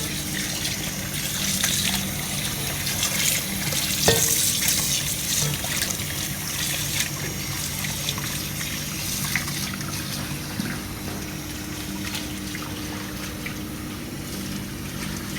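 Raw meat is washed under a running tap, a steady close stream of water splashing and trickling continuously with faint handling clatter and one sharp knock partway through.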